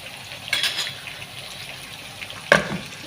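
Onions fry in oil until deep red for a Kuwaiti-style fish biryani, giving a faint, steady sizzle with a few stirring scrapes and a sharper clatter near the end.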